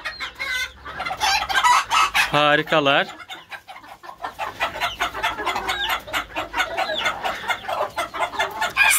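Hens in a coop cluck and chatter close by, with repeated short calls and one longer drawn-out cry, while someone speaks in between.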